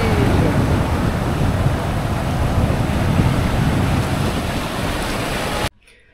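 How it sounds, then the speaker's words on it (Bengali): Face-high ocean waves rolling in over coral on a Cox's Bazar beach at night make a continuous loud wash of surf with gusty wind noise for several seconds, then cut off abruptly into near silence. "মুখ সমান উচ্চতার ঢেউগুলা"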